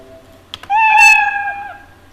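A computer program plays a cat meow sound effect. A brief click is followed by a single loud, clear, drawn-out meow that fades at the end.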